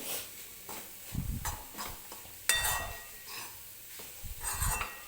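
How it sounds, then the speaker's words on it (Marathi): Grated fresh coconut roasting in ghee is stirred in a pan, with repeated scraping strokes and soft sizzling in an uneven rhythm and occasional clinks of the spoon against the pan, close by with no talking. "मी सारखं सारखं हे खोबरं हलवते आहे"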